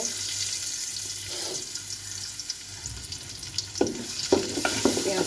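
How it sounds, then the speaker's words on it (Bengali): Rice sizzling in hot oil in a pot for a spicy chicken and vegetable pulao, a steady broad hiss with scraping stirs and sharper clatters near the end, close and loud, no voices. "এখন পোলাওটা তেলানি দিব"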